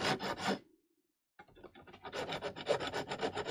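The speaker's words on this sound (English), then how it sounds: "a little bit of a broken, very harsh, file, and you will just sand it down" A harsh, broken file rasps in rhythmic back-and-forth strokes over the sharp fret ends of a 1978 Fender Stratocaster, close and dry, with a short pause before faster, steady strokes resume.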